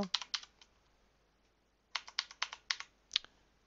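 A password is typed into a Linux terminal on a computer keyboard, heard as two quick bursts of crisp, close keystrokes with a short pause between them.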